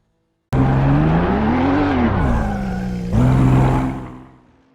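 A Porsche race car runs flat out on the oval section at Indianapolis, the engine note bursting in loud and near, climbing and dipping, then jumping after a gear change before fading away.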